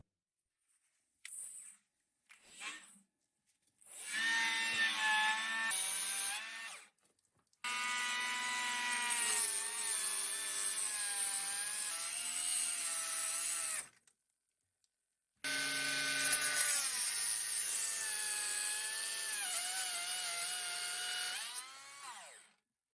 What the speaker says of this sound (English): Let's use the angle grinder with a cutting disc.